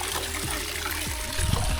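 Mountain stream water trickles and splashes over rocks at Vagamon: a steady close wash of flowing water, with a few fuller splashes near the end.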